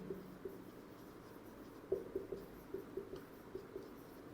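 Steady writing strokes on a board or paper, a run of soft rhythmic taps and scratches that clusters near the middle, close and quiet, with no talking.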